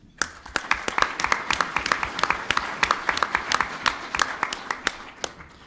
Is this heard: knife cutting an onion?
no